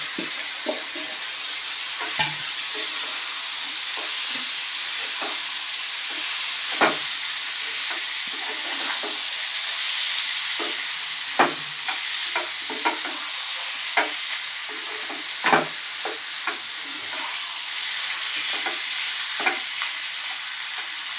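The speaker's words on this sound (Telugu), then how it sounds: "ఇప్పుడు మనం మ్యాగ్నేట్ చేసి పెట్టుకున్న ఈ మెత్తాళ్ళని ఈ విధంగా దీనిలో వేసుకున్నాం, పచ్చి మెత్తాలు." Marinated raw anchovies sizzle steadily in a pan while being stirred, with scattered scraping clicks from the spoon over a constant frying hiss, close and moderately loud, no talk.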